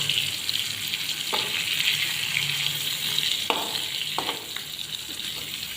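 Sardines fry in very hot coconut oil with a steady, close crackling sizzle. A few sharp clinks and scrapes mark the fish being turned in the pan. No one speaks.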